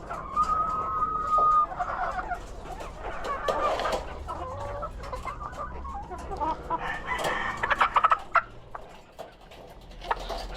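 Chickens cluck and chatter nearby in a farm setting, with several overlapping birds making rising calls and short cackling bursts, a high-pitched peep at the start, over low background rumble and no talking.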